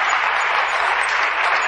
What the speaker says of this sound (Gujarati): તમારે તાળી વગાડવી પડશે